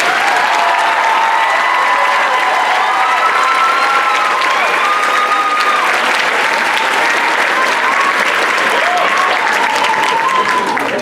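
A large commencement crowd applauds graduates, loud sustained clapping mixed with crowd murmur and a few raised voices, continuous and dense for about eleven seconds.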